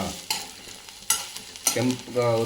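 Soft sizzling in a pan with a few scraping stirs, each bringing a short louder burst of crackle, then a brief tonal clatter near the end.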